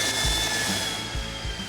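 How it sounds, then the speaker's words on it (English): Belt sander smoothing freshly cut Lexan pieces in a workshop, a continuous whirring abrasive drone with a few low thumps as the plastic is pressed against the belt. "we'll clean them up a bit with the belt sander"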